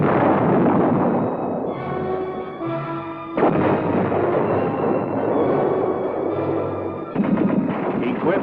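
An M60 Patton tank fires its 105mm cannon, with heavy booming blasts and rolling rumble that sustain loudly for several seconds, a second sharp burst following near the end.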